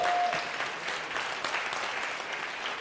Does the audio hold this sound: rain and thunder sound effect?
no